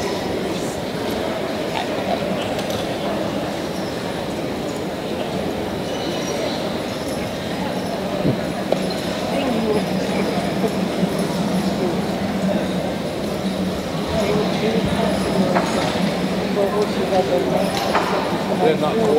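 Hooves of draft horses clip-clop at a Southern draft horse pull in 2015, a steady scuffing rhythm heard amid a noisy outdoor crowd, with an announcer's voice running over it.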